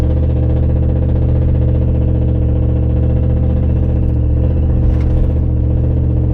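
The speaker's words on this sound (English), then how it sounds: "So you can hear that exhaust right there." The exhaust of a 2003 Chevy Tahoe drones loudly and steadily while driving, a deep, continuous engine rumble heard from inside, with a faint rattle near the end.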